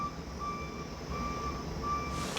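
Three evenly spaced reversing beeps sound over a steady engine drone, fairly faint and at some distance.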